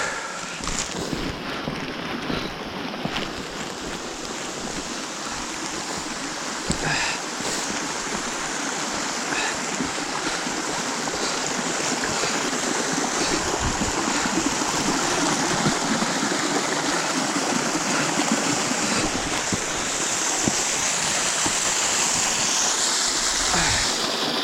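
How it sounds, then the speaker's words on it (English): A small waterfall beside a hiking trail on Mt LeConte makes a steady, dense rush of falling water that stays loud and unbroken throughout, with no voices. "Nice little waterfall. Check this waterfall out."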